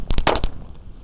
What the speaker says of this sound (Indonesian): di sini ada mercon telur dino tor kretekan yang paling jumbo guys